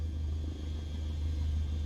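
A Cessna 152 taxis into position on the runway, its engine making a steady low rumble heard from inside the cabin, with no voices.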